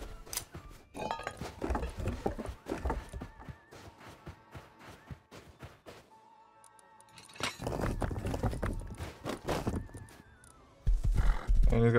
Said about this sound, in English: And he's got a decent horse?